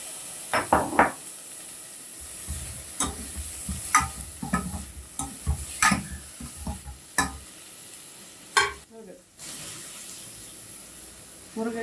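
Sliced onion and two tomatoes dropped into a pan for drumstick leaf soup, scattered sizzles, stirring clatter and utensil knocks over a low frying hiss, close up with no talking.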